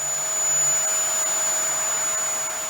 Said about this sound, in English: you can then take your vacuum cleaner and get rid of all the smaller bits.